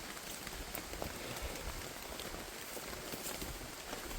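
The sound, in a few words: rain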